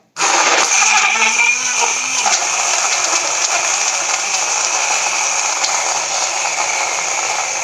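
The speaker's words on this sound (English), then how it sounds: "The BlendJet is working its magic." A BlendJet portable blender whirs steadily as it blends a 16-ounce fresh fruit smoothie with chocolate protein. A brief lower grind settles into a loud, constant high motor whine that runs on without a break.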